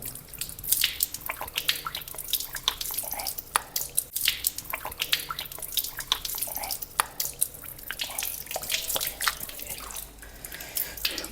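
Water from hand washing during wudu ablution, splashing and dripping in irregular bursts close by, with someone speaking over it at times.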